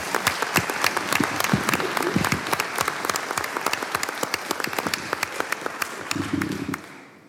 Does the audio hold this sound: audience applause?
yes